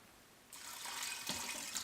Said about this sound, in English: I'm gonna do 8 cups of water because I wanna go ahead and get this pretty filled.